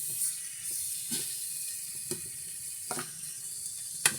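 Bitter gourd (ampalaya) frying in a pan gives off a steady soft sizzle and hiss, with a few brief louder crackles and pops scattered through it.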